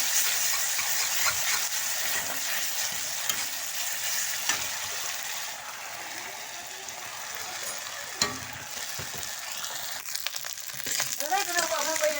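Onions and chillies fry in a pan with a steady, close sizzle, broken by occasional stirring scrapes and clinks.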